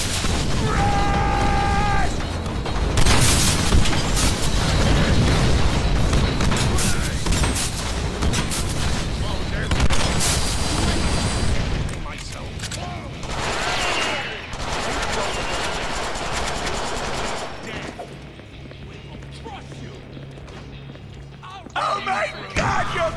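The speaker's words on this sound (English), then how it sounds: "Oh shit, that's a lot of grenades." Grenades explode amid heavy gunfire in the Deadpool video game. Dense, rapid bursts and booms fill the first half, then thin to scattered blasts and mechanical clatter, with a voice talking over the action.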